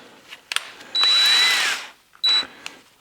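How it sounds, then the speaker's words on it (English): Power drill boring into metal with a small bit at a center-punched spot: a longer whining burst followed by a brief second burst, close up, with faint clicks between. "And then I'm drilling with a smaller drill."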